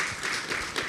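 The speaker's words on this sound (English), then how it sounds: "give them another round of applause" Audience applause for women who have just spoken at a self-care talk, a dense, even burst of clapping filling the whole second.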